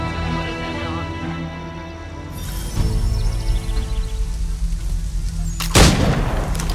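Gunfire from the Assassin's Creed III video game bursts out in a sharp, loud crack near the end, after a rumbling battle ambience swells up midway.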